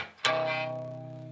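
A single bass guitar chord is struck once and left to ring, its tone slowly decaying with a faint wavering shimmer, heard alone and close, from a song lesson.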